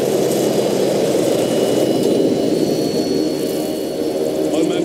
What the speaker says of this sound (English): Vehicle's approaching.